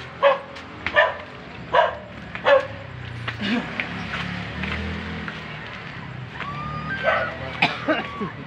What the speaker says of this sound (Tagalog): Galit yung aso guys.